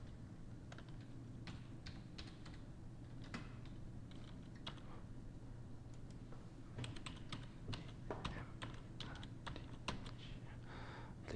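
Steady clicking of a computer keyboard as a login password is typed, with irregular quick keystrokes continuing throughout at low volume, no voice present.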